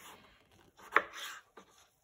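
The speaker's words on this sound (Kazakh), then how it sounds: "помидор қызанақ, соны турап қасына қоямыз" A couple of sharp knife chops through a tomato on a cutting board, one loud strike followed by a softer one, with quiet pauses around them and no talking.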